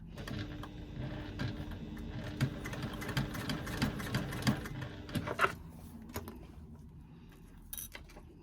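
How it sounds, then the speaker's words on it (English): A sewing machine running in steady bursts while stitching down the sides of an accent strap on a fabric bag, close and moderately quiet with a soft mechanical hum and clicks, slowing to a stop near the end. "I'm just now going to stitch down the sides of that accent piece"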